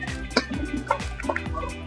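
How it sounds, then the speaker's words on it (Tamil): Cut vegetables such as eggplant, drumstick and radish being washed by hand in a bowl of water, soft close sloshing and dripping with small splashes, no talk. "நல்லா தண்ணியில் கழுவிக்கலாம்."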